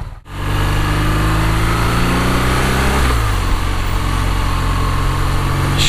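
A BMW R nineT motorcycle engine runs loud and steady while riding, a continuous drone with the revs climbing gradually and then shifting to a lower pitch around the midpoint, as if changing gear.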